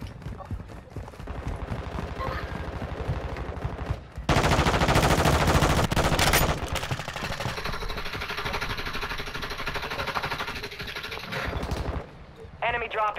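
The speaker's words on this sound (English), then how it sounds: "Oh, where am I being shot from?" Bursts of automatic gunfire aimed at the player in a military shooter video game, loud and dense with a sharp burst in the middle, mixed with game sounds and faint voice chatter.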